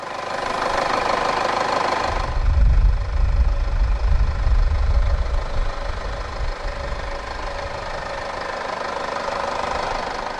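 A 2015 Mercedes-Benz V 250 BlueTEC with a 2.1-liter OM651 turbo diesel inline-four starts with a loud low surge, then settles into a steady, slightly clattery idle.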